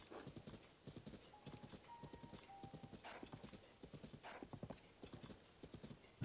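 Horse hooves clip-clop in a quick, steady rhythm in Zelda: Tears of the Kingdom, close and clear, with a few short high tonal game chimes over the hoofbeats.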